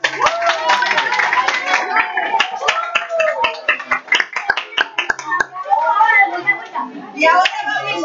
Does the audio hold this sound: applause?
yes